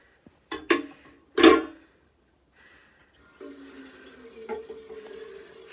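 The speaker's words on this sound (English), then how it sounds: "Oh, might as well water all my plants while I'm at it." A few hard clunks of handling are followed by a steady trickle of water poured from a pitcher onto indoor house plants, soft and close.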